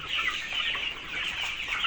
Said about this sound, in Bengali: আপনারা দেখতে পাচ্ছেন এগুলো হচ্ছে সোনালি মুরগি